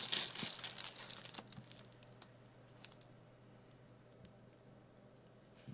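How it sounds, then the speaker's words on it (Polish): A parcel is opened by hand, with close, crisp paper crinkling and tearing at first that thins into scattered soft rustles and light ticks. "I teraz otwieram przesyłkę."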